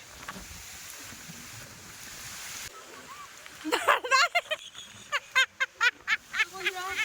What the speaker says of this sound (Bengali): নদীর জল কিন্তু আছড়ে আছড়ে উপরে উঠে যাচ্ছে